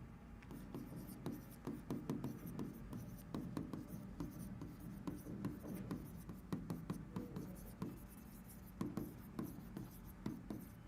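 A pen writes quickly on paper up close, giving a dense run of faint scratchy strokes and taps in an uneven rhythm that continues throughout.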